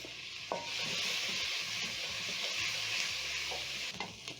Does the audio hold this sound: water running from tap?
no